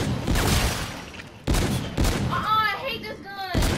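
Gunfire from a weapon in Call of Duty: Infinite Warfare comes in several sharp, loud bursts separated by short gaps, with a voice talking between the shots.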